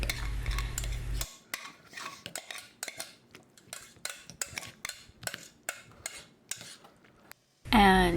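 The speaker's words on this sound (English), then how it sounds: "And then you just stir it all together." Metal spoon stirring breakfast with milk in a bowl, a steady run of sharp clinks and scrapes, close and clear with quiet between strokes, framed by brief louder noise at start and end.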